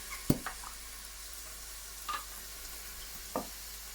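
Tomato chili sauce sizzling in a pan over low heat for Caribbean-style chickpeas, a steady soft frying hiss with a few brief clinks and stirring scrapes, close and quiet, with no talking.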